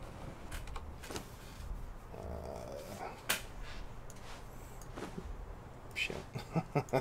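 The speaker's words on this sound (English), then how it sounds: "Yeah, you want to growl at me? Okay, sure, growl." A creature growls in the game Conan Exiles, a low rumbling snarl that rises in the middle, with scattered game clatter and thuds, followed by a quick run of sharp knocks near the end.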